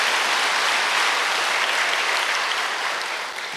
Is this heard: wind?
no